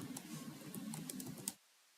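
Fast typing on a computer keyboard as an address is entered into a browser search bar. A quiet run of rapid key clicks lasts about a second and a half, then stops abruptly into near silence.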